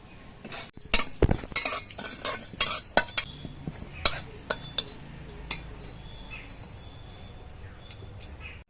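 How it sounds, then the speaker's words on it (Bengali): Cumin seeds dry-roasting in a pan for a fish chorchori, a faint crackle beneath a burst of quick, loud metallic clinks and scrapes of a spoon stirring, which thin out and fade to quiet frying. "তার জন্য অল্প করে জিরে আমি ভেজে নিচ্ছি"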